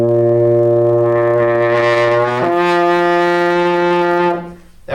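A trombone holds a low note blown hard and buzzy, then abruptly flips up to a higher partial midway and sustains it, loud and close, before cutting off.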